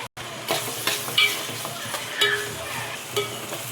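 Onions hiss and sizzle in hot oil, with a few sharp stirring scrapes and clinks close by.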